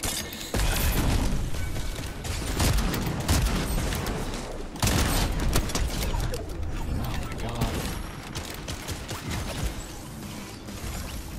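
Sniper rifle gunfire in Fortnite, heard as loud repeated shots and game mechanism noises that go on steadily for the whole span, partly under voices in the background.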